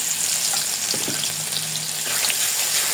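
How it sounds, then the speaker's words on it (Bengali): Chopped garlic sizzles in hot oil with panch phoron while being browned for chana dal, a loud close steady frying hiss with a few soft stirring scrapes and no voices. "রসুন কুচিটা একটু বাদামি কালার করে নেব।"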